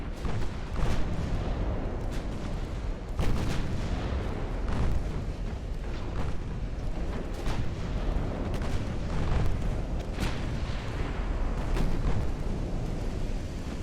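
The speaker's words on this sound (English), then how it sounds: "Let's go with AP. And let's go full broadside." A battleship in Ultimate Admiral Dreadnoughts fires a full armour-piercing broadside as a series of heavy booms with rolling rumble, the blasts landing irregularly over a constant loud roar of naval battle.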